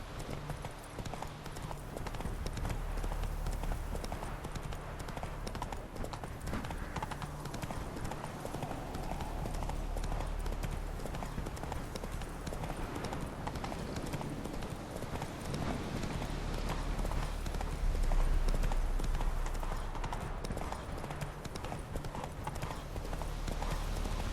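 Game horse Roach from The Witcher 3 gallops with rapid, continuous hoofbeats under a steady wash of wind and ambient noise, fairly faint overall.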